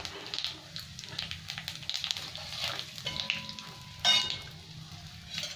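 Whole cumin seeds, dry red chillies and bay leaves crackling in hot oil for a Bengali chicken curry, a soft continuous sizzle with faint stirring scrapes and a brief louder burst near the end.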